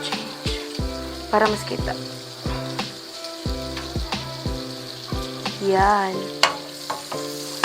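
Onions frying in a pan for lumpia gulay, a soft sizzle and crackle with a clear beeping tone pattern running over it, while someone talks briefly in Tagalog.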